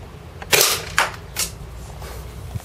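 A TSD L96 spring-powered bolt-action airsoft sniper rifle fires 0.2 g BBs through a chronograph, giving sharp, close snaps, the loudest first, spaced about half a second apart with no talk.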